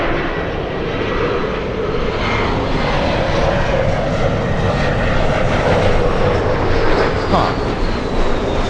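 An airliner at Los Angeles airport roars as it departs, a loud broadband jet rumble sustained throughout, with a faint rising whine near the end.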